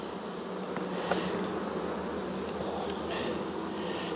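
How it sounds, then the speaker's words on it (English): Honey bees buzz steadily around an opened hive during a frame inspection, a dense, continuous droning swarm close by with no talking. "The bees are actually behaving themselves for the most part."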